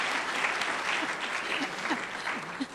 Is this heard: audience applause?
yes